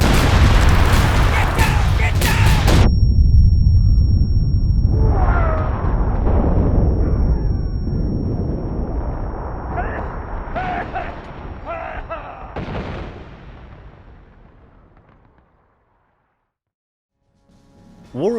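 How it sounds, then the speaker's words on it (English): Incoming artillery explosions in War of Rights, a Civil War first-person shooter set in the Maryland campaign: a loud sustained roar opens, then booming impacts with shouting voices overlaid, fading toward silence. "Incoming artillery!"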